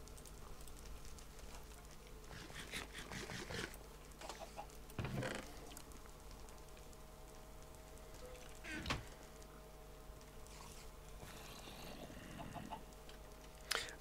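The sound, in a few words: chicken clucking in a video game (Minecraft, Better Than Wolves)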